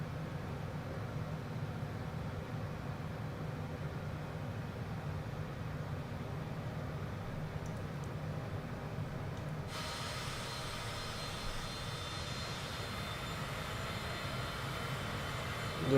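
A plane cruising at 10,000 feet in Microsoft Flight Simulator 2024 with engine output reduced, giving a steady, even cockpit drone of engine and airflow that continues unchanged, with a brighter hiss entering partway through.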